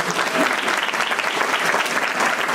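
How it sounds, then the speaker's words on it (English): Brief burst of audience clapping at a workplace safety meeting, a dense, even patter of many hands sustained across the moment with no speech over it. "Let's give her a round of applause."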